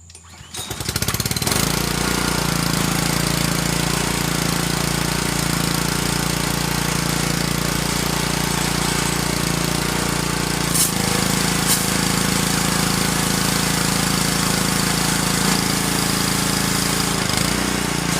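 A pressure washer's small gasoline engine starts up and runs loud and steady with a rough, rattling drone, close by and continuous.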